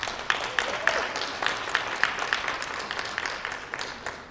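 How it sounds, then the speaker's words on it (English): A crowd at a high school college signing day applauds, steady moderate clapping in a large room with a few sharper claps standing out, continuing for several seconds. "I think that deserves a round of applause."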